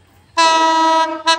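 A train arriving at a station sounds a loud, close, sustained horn blast of about a second, followed by a brief second toot.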